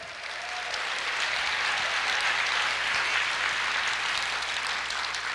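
A church congregation claps together in steady, sustained applause during a worship service, a dense broadband patter that holds at a fairly even loudness for several seconds with no talking over it.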